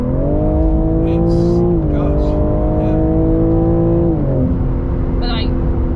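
A BMW G80 M3 Competition accelerating hard, its engine note climbing steadily, dipping at a gear change around two seconds and again near four, loud and close, with brief talk over it.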